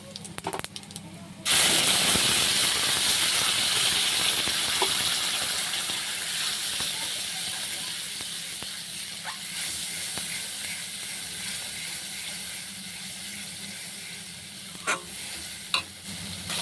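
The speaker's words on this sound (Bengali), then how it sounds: "বড়া আমার ভাজা হয়ে গেলে একটুখানি জিরে ফোড়ন দিলাম। এবারে মশলাটা তুলে দেবো।" Cumin seeds tempering in hot oil as spices are added to a pan, a loud sudden sizzle that settles into a steady frying hiss, with occasional stirring clinks and scrapes.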